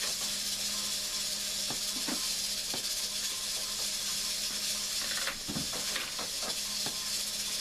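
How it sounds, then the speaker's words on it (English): A pressure cooker hisses steadily in a home kitchen during canning, a continuous broad hiss lasting throughout at moderate distance, with a few faint clicks and knocks over it and no talking. "And yes, you can hear a pressure cooker in the background."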